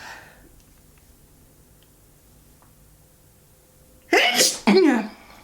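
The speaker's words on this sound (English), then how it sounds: "I'm gonna sneeze." Near silence, then two loud sneezes in quick succession near the end, close and sharp.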